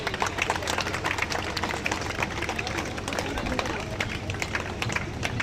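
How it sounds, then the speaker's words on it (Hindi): Audience applause at a political event honouring local officials, a dense steady patter of many hands clapping together, close and continuous across the whole stretch. "तालियां बजती रहें।"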